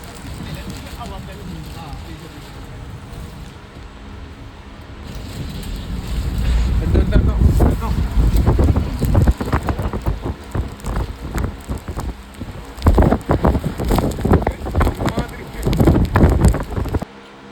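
Heavy wind roars over the microphone with a steady rush of rain in a sandstorm, growing louder and gustier partway through, with people talking intermittently beneath the storm.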